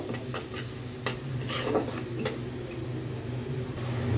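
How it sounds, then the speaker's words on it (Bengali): Spices are stirred and sautéed in a pan for a home-cooked vegetable dish: a soft background sizzle with scattered utensil scrapes and clinks against the pan, fairly quiet and close, with no speech. "সবগুলো মশলা খুব ভালো মতন কষিয়ে নিব"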